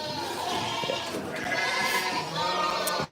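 A sheep on a farm bleats in wavering, drawn-out calls, close and fairly loud over a continuous stretch, with no talking over them.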